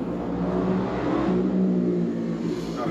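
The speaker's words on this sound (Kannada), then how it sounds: "9ನೇ ಅಂತಸ್ತು, ಆದರೂ ನೋಡಿ ಟ್ರಾಫಿಕ್ ಹೆಂಗೆ ಕೇಳೋದು" City street traffic rising up to a ninth-floor room, a continuous low rumble and whir of engines with no break, steady and moderately loud.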